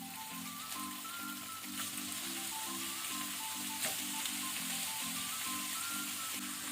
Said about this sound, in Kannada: ಈಗ ಮೀಡಿಯಂ ಟು ಹೈ ಫ್ಲೇಮ್ ಅಲ್ಲಿ ಇದನ್ನು ನಾವು ಫ್ರೈ ಮಾಡ್ಕೊಳ್ಳುವ ಶ್ರಿಂಪ್ಸ್ ಅನ್ನು